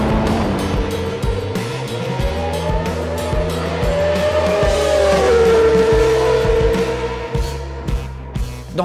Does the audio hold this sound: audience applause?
no